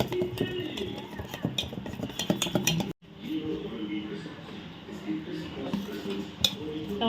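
Gram flour dhokla batter being stirred in a vessel, with steady scraping and clinking of a spoon against the metal, close by and continuous, briefly cut off partway through.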